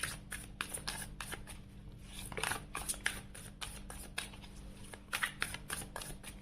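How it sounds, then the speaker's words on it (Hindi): Tarot cards shuffled by hand in a rapid series of crisp riffling bursts, close and steady, with a low hum underneath and no speech. "ओके, तो चलिए उनके लिए भी कार्ड शफल कर लेते हैं।"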